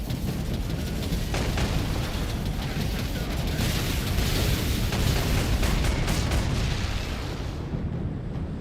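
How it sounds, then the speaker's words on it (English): Heavy autocannon fire and explosions from the game Warhammer 40k: Space Marine roll on without pause, a dense, loud, rumbling barrage of booms and bursts that barely lets up. "The autocannon's nice. More autocannon, please."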